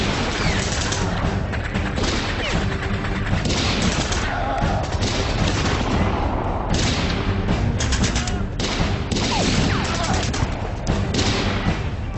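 Soldiers' gunfire in a battle, dense continuous volleys of loud shots and bursts with thuds, mixed with shouting voices throughout.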